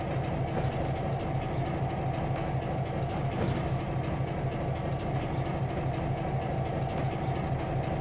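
Train cars roll along a bypass track on the Tidewater route in Trainz 2022, a steady, loud rumble with faint clickety-clack that carries unbroken throughout.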